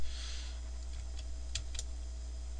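A computer keyboard gives a few quick, sharp key clicks close by, with a steady electrical hum beneath.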